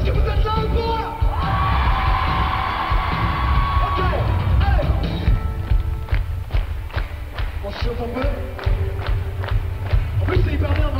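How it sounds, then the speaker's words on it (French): A crowd at a concert in Clermont-Ferrand in 2018 yells and cheers loudly. Sharp claps and thumps join in later, and the sustained roar carries under and between the voices. "Vous allez crier le plus fort possible."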